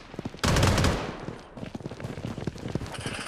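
Rapid automatic gunfire in a battle royale video game, a loud burst of dense cracks followed by continuing scattered shots and clatter mixed with game effects.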